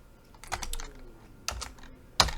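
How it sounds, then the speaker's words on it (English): Keys tapped on a computer keyboard while writing a bash script, a few soft scattered clicks followed by a sharper, louder keystroke near the end, close and alone without talk. "I'm going to go into insert mode by pressing I on my keyboard"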